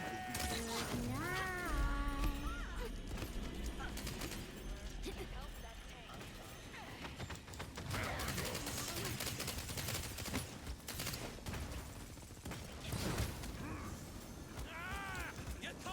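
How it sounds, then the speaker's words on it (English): Gunfire from the video game Paladins, bursts of shots and sharp impacts mixed into busy game effects, music and voiced character lines, with a player talking over the action. "They're shooting at me!"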